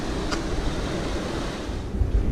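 Rushing water along a trail in Buena Vista, Colorado, heard as a steady broadband wash with low rumble and wind buffeting the microphone, continuous for the whole stretch with no voices.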